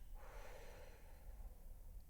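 A single forceful exhale from a guided breathing exercise, belly pulled toward the spine and air blown out as if at candles, rushing out soft and breathy over low background rumble.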